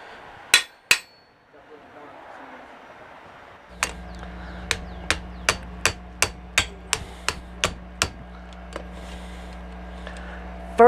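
Hammer blows on hot rebar while drifting holes during knife-making, about a dozen sharp, evenly spaced ringing strikes over a low steady hum, preceded by two isolated hits.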